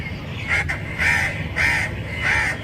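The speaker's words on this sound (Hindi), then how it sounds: "इसमें कौवा क्या कर रहा है, देखें जरा कौवा कितनी देर।" A crow caws four times in a slow, evenly spaced series, fairly close and clear over a steady low rumble of background noise.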